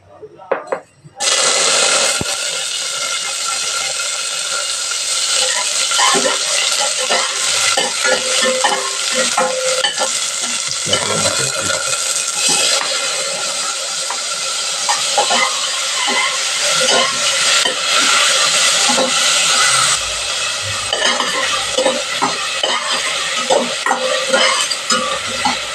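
Onion and ginger sautéing in a pan, a loud continuous sizzle with frequent scraping stirs of a utensil, close up and running almost unbroken after a brief quiet start.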